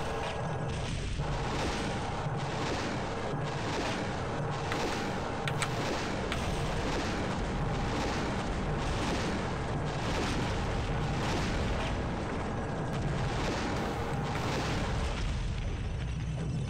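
Missile launches and explosions in the Helicops video game at Yutaro Shipyards, a dense barrage of repeated booms and bursts in a steady pulsing rhythm that runs loud and continuous over engine drone.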